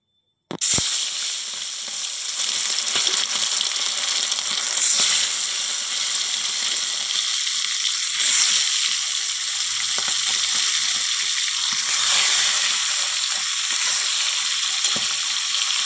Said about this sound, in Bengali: তো চলো প্রথমেই মাছগুলা ভেজে নিই। তেলটা গরম হয়ে গেছে বন্ধুরা।